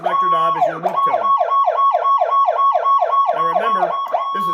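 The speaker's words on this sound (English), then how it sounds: "And then finally on the selector knob is your whoop tone." A Powercall UDX7 emergency siren runs its whoop tone: a loud, nearby electronic sound made of rapid, steady upward sweeps repeated many times in quick rhythm. It starts and ends with a slower wail cycle, and there is no speech.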